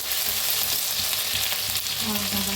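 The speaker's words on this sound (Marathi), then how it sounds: "जी लसूण, अद्रक, हिरवी मिरची चेचून घेतली होती ती भाजून घेऊया।" Crushed garlic, ginger and green chili sizzle steadily in hot oil, a dense, continuous frying hiss at close range with light stirring scrapes.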